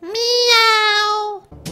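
A single drawn-out cat meow, loud and close, rising then falling over about a second and a half, followed by a brief rustle.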